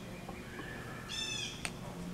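Blue jays calling harshly as they dive-bomb a person outdoors, a short burst of raspy, squealing calls lasting about half a second, followed by a single sharp chirp, over faint background noise.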